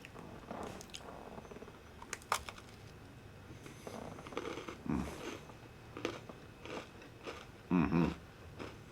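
A chocolate hazelnut Oreo cookie, chocolate wafer with chocolate filling, bitten and chewed close up, giving a few short, quiet crunches with soft chewing between them.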